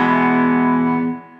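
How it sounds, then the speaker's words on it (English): A Telecaster electric guitar played through a clean amp with a Pickle boost pedal: one sustained, ringing chord that holds strongly, then fades over about a second, heard alone with no talking. "I've got my Telecaster going into a clean amp."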